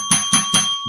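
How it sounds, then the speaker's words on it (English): A handheld bell rings three sharp, loud strikes in quick succession, each one leaving a metallic ring, followed by a fainter fourth tap, with no talking over it. "Oh my gosh, your bell."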